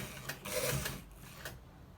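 Sewing machine stitching the back of an open shirt, giving a short burst of soft mechanical whirring and clicking that fades after a second.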